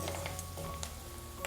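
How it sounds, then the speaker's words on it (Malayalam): Curry leaves fry in hot oil while a mango pickle is made, giving a steady, soft sizzle with faint crackles and a few light pops, heard alone at low volume. "ഈ എണ്ണയുടെ ചൂട് കൊണ്ട് തന്നെ പെട്ടെന്ന് തന്നെ നമ്മുടെ കറിവേപ്പിലെല്ലാം ഒന്ന് വറുത്ത് കിട്ടിക്കോളും."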